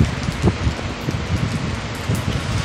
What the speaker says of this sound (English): Look at that fucking rain. Listen to it.